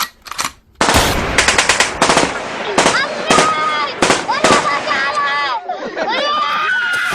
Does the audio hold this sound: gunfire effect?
yes